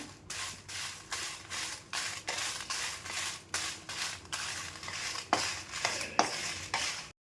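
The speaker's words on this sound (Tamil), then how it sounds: "சிம்மில் வச்சு வறுத்துக்குங்க" Dried chillies dry-roasting on a low flame for sambar powder, tossed in a pan with rhythmic, repeated scraping and rustling strokes, fairly close and without any voice.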